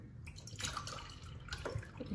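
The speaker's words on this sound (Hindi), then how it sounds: "इसके अंदर दो ग्लास पानी के ऐड करते हैं" A glass of water pours into a cooking pot for chicken biryani, a soft, close splashing and trickling that runs steadily without speech.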